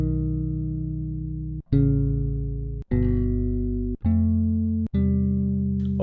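Chord samples from a bass sound pack triggered on an Akai MPC, five deep sustained chords in sequence, each starting cleanly after a short gap, close and clear with no talking.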